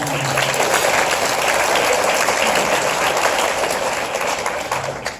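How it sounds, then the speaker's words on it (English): Luncheon panel audience gives a round of applause, with loud, dense clapping that continues steadily throughout. "let's give them a round of applause"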